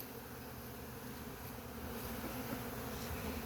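Honey bees buzzing at an open hive in December, a dense continuous hum of many insects, close and steady throughout without any talk.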